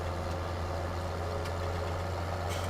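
A Deutz-Fahr Warrior tractor engine idling in Farming Simulator 2017, a steady, low, even diesel rumble held without change, close and moderately quiet, with no talk.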